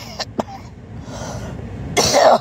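Harsh, forceful coughing from an adult during a home Covid test, a couple of short sharp bursts followed by a rougher, louder hack near the end, heard close and alone.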